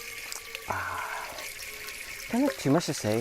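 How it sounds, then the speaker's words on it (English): Water running into water bottles, a faint steady hiss under a few words of speech. "filling up water bottles."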